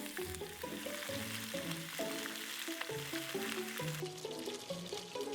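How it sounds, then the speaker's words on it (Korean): Vegetables fry in leftover oil in a pan, a continuous soft crackling sizzle heard under steady melodic background music. "이제 저 남은 기름으로 그냥 야채를 구우시면 돼요"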